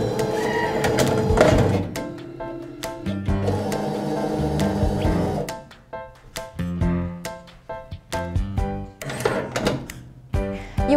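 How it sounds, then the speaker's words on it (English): A YL 300PB currency banding machine bands a stack of notes and prints on the band, with a whirring motor run followed by rapid mechanical clacks and sharp printer strikes, loud and close with no talking. "The bending will begin and the printer will move down and start printing."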